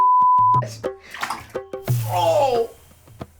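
Someone splashes into scalding hot bath water with a burst of sloshing, preceded by short yelps and sharp exclamations.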